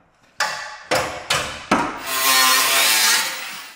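Several short rasping saw strokes on wood, followed by a longer continuous cut, loud and close with no talking.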